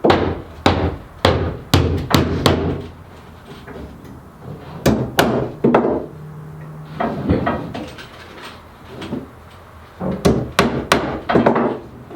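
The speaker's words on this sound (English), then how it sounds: "We just finished getting the workbench into place and nailing the top onto it" Hammer blows drive nails into the wooden top of a workbench being installed in a shop build, sharp close strikes falling in quick bursts of several hits separated by short pauses, with no talking over them.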